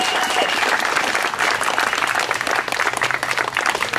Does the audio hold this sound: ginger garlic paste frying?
no